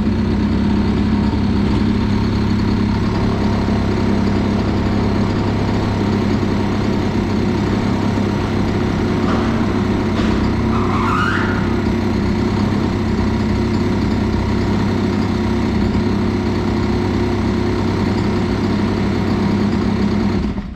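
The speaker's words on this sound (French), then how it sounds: "On laisse tourner le moteur" A Gilardoni Booster 50 moped engine with a stock cylinder head idles steadily and loudly for the whole stretch, a constant buzzing rumble with a brief squeak midway.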